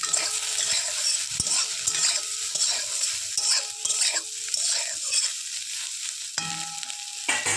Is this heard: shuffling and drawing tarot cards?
no